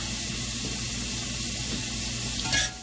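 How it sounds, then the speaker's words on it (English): Onions, seasoned with salt and pepper, sweat in a pan with a steady, even sizzle that stays close and constant throughout, and a brief louder hiss flares near the end. No one talks. "we're going to sweat these onions down just a little bit"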